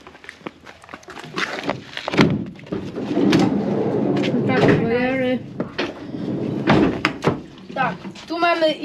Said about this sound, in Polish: Drzwi można otworzyć więcej.